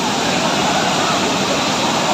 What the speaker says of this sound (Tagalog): Yan ang pinaka-attractive dito. Yung falls mismo.